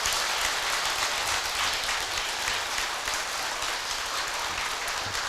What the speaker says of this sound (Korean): 박수 한번 보내드리세요